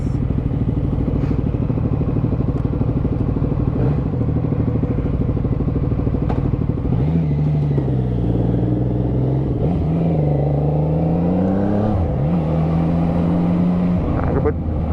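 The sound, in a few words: CFMOTO 675NK motorcycle engine warming up and revving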